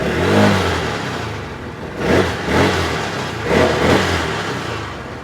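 A 2024 Trailmaster Sportscross 1000 sport side-by-side runs close by, its engine rising in a few sharp revs that ease back to a rough, steady running note between them.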